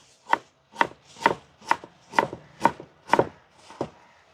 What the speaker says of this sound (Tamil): இப்போ வெங்காயம் தக்காளி நறுக்கிறோமா?